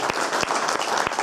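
At a boxing homecoming press conference, a crowd applauds Irish boxing trainer John Breen with a short burst of steady clapping, several louder close claps punching through the wash.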